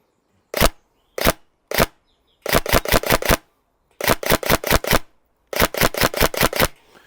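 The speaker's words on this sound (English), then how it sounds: "We're going to go for the near targets with the semi and burst" A Tokyo Marui NGRS SMG-5 SD6 electric airsoft gun fires close-range shots: three single semi-auto cracks, then repeated rapid bursts of several snappy mechanical shots each, loud and close.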